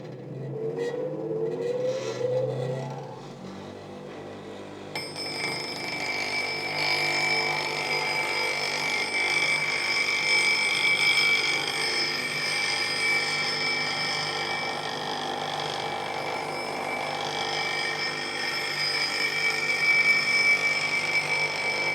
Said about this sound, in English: So I'm going to fire up the grinder and show you how easy it is to sharpen the tool.